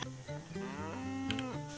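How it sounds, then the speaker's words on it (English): A cow mooing in the video game Railroads Online, one long, loud, drawn-out low moo that rises in pitch toward the end, heard alone without talk. "Don't you moo at me, cow!"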